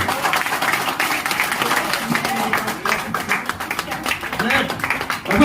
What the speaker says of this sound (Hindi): जोरदार हाथ ताली हो जाए सबके लिए।